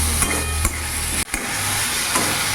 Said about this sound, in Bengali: এবার ভালো করে আমি নাড়াচাড়া দিয়ে একটু কিছুক্ষণ আমি ভেজে নেব